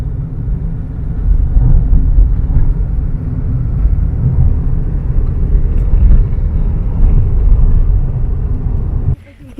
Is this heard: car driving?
yes